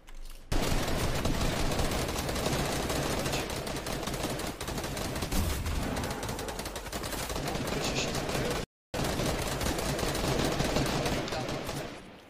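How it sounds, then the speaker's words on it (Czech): Gunfire in the Fortnite video game, with dense, rapid bursts of automatic shots and scattered single cracks. They run almost continuously at a steady loudness, with a brief dropout near the end. "Je střílí ještě někdo?"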